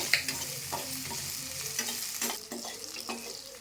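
Coriander and cumin seeds dry-roast in a pan while being stirred, producing close, rattling scrapes in a loose rhythm over a light crackling sizzle.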